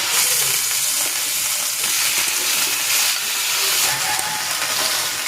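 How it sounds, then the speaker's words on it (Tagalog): Seasoned chicken with salt, pepper, garlic and paprika grilling in a pan of cooking oil, giving a steady close sizzle and hiss that runs unbroken throughout with no talking. "Ipan-grill ko muna itong chicken."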